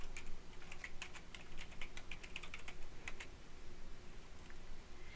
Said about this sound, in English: Go to any search browser, type in your topic,